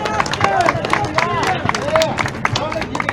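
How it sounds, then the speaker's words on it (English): A crowd applauds for police, military and firefighters in the audience, with irregular claps rising over a hum of chatter and voices. "We owe you a big round of applause."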